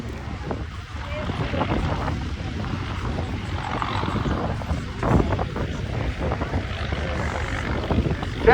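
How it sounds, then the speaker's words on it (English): An Avro Lancaster bomber flies over the Quinte West Airshow in 2024, its propeller engines making a steady, rumbling drone that swells slightly, with wind buffeting the microphone. "Lancaster bird, a rare opportunity to see and hear it fly."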